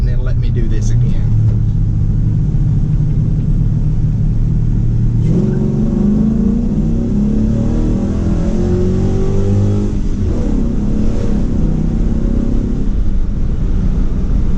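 An LS-swapped Chevrolet C10 truck pulls hard during a street tuning run, its V8 roaring loud and close as the revs climb, then shifting and climbing again, with a voice talking over the engine.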